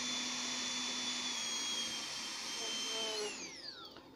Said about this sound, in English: So this kind of motors have a very high RPM and also torque.